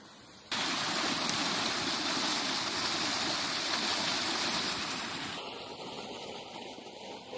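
A canal near a rural plot with paddy fields and mountain views flows with a steady, loud rushing of water that starts abruptly and continues for several seconds, then fades lower near the end with no talking.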